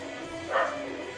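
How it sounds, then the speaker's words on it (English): Dogs bark once in a brief, moderately loud burst that rises above a steady background hiss and then fades, with no voices. "my dogs are freaking out again!"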